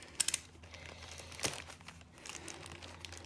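Plastic wrapping on a large unboxing package crinkles close by in a few sharp bursts, followed by quieter rustling handling.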